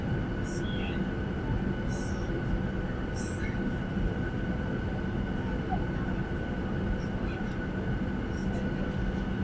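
Passenger aircraft sitting on the ground before takeoff, a loud steady engine roar and cabin hum that fills the whole stretch, with a few faint high chirps above it.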